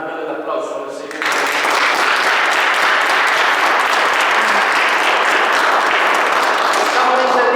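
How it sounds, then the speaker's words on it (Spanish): A church congregation bursts into loud, sustained applause after a brief moment of a voice, the clapping rising abruptly and continuing as a dense, close roar for several seconds. "Dale el aplauso al Señor."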